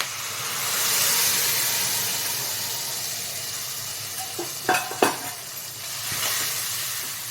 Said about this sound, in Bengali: দইটা নাড়বো, নাড়তে থাকবো